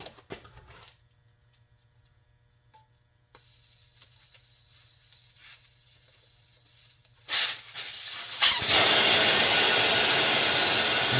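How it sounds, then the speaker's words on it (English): Air hisses out of a 13-inch scooter tire once the valve core is pulled. After quiet handling noises, a loud, steady rushing hiss starts near the end and goes on, close and alone. "First off, we need to get the air out. So I'm going to pull the valve core here."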